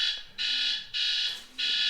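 A mobile phone alarm goes off with a loud, steady electronic beeping tone that repeats in three long bursts separated by short gaps, alone with no talking.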